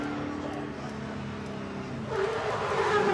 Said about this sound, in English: his V8 roaring there as it comes down